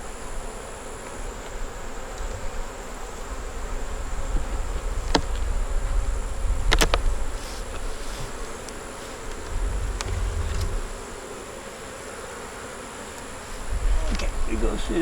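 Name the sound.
bees buzzing around a hive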